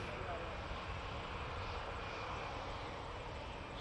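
An Air Canada Airbus A220 takes off from runway 23 at Toronto Pearson, heard as a steady broadband jet roar that stays loud and even throughout, with radio chatter from the airport likely present.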